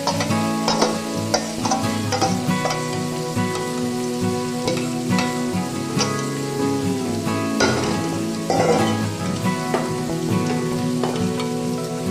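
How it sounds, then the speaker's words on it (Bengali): Cooked chicken stirred into fried rice for tehari in a pot on a gas stove, steady sizzling frying under repeated scraping and clinking stir strokes, with some background music throughout. "ভেজে রাখা চালের সাথে রান্না করা চিকেনটাকে আমি ভালো করে মিশিয়ে নেব"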